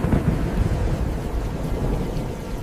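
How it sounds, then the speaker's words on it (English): Deep thunder rumbles steadily across the Amazon rainforest, a broad low roll with rain hissing beneath it and no voices. "Thunder rumbles like a giant's heartbeat."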